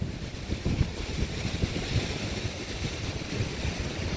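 Stormy wind and surf on the Baltic Sea coast during a severe autumn storm surge, a steady broadband roar of wind buffeting and crashing waves with no talk.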